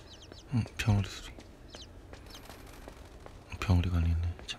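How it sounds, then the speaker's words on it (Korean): Sparrows chirp in quick, high bursts while people talk nearby, with some clucking-like calls mixed in. "병아리가 아니네. 참새."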